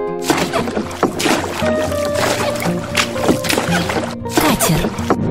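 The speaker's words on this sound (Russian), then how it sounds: "лодка" A small boat on the water, with repeated splashing strokes and sloshing over a steady low hum, fairly close and loud, and no voices.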